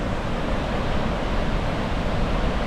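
Koosah Falls on the McKenzie River in Oregon pours with a steady broadband roar, close and continuous, with no voices.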